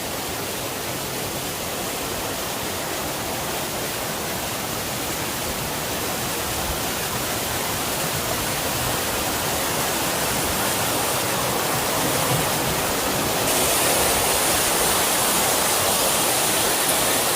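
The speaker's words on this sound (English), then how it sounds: "let's have a look at the waterfall. So this is the waterfall you can see behind me" Waterfall at the Umlun micro hydel project, a dense, unbroken roar of falling water heard close, steady throughout and swelling slightly louder toward the end, with no voices over it.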